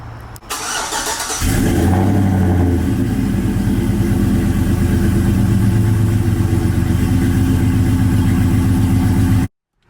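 A lowered vehicle's engine cranks briefly, catches and settles into a loud, steady idle close by, with a rough rhythmic pulse running until it cuts off abruptly near the end.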